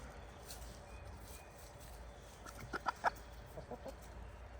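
A few soft chicken clucks come in a short burst near the end, faint against a quiet outdoor background by a backyard chicken run.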